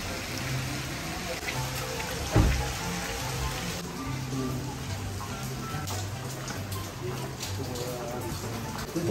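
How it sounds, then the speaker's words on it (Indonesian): Heavy rain pours down in a steady, dense hiss that fills the whole stretch, with a single sharp thump near the middle and voices faintly underneath. "tapi di sini masih hujan banget"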